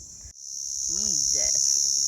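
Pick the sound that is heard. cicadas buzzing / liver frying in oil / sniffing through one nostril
cicadas buzzing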